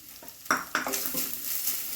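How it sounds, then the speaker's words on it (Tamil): Grated coconut roasting in ghee in a pan: a couple of quick spatula scrapes and knocks over a soft, steady sizzle, close and brief. "கொஞ்சம் நெய்யை ஊற்றி நம்ம ஏற்கனவே திருவி வச்சுருக்கோம்ல தேங்காவை போட்டு நல்லா அந்த ஈரப்பதம் போகிற அளவுக்கு வறுத்து"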